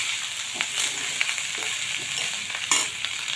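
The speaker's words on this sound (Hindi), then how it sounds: "चावल डाल दूंगी। अच्छे से मिला दूंगी।" Rice being stirred into a curry-leaf tempering in a pan: a steady close sizzle with soft scraping strokes and a few sharp spatula taps against the metal.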